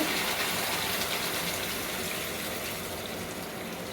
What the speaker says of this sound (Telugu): ఇలా బాయిల్ అవుతున్నప్పుడు మనం కొన్ని వాటర్ పోసుకోవాలి.